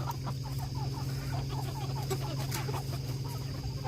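Pioneer broiler meat chickens cluck softly in a free-range flock settling for the night, a run of short, rapid clucks over a steady low background hum.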